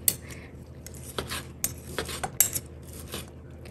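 Cooked steak for a Thai beef salad is sliced with a knife on a board, giving a handful of soft, close scrapes and light clinks spaced a fraction of a second apart, with no voices.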